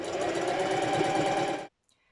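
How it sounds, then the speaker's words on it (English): A domestic sewing machine stitches fabric for jogger pants in one loud, close, steady mechanical run with a rapid needle rhythm, stopping abruptly into near silence. "we can now get to the sewing machine."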